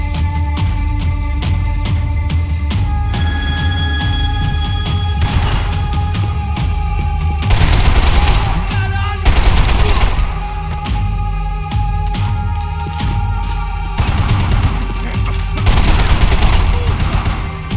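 Gunfire in the video game Max Payne 3: repeated loud shots and bursts in irregular clusters over game sounds, close and sharp.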